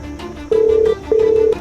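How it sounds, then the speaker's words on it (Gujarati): A telephone ringing for a call to a CID officer, two loud steady electronic ring tones each lasting about half a second with a short gap between, over a low background hum. "હાલ ના ના વીસીઆઈડી ને ફોન કરવા દે"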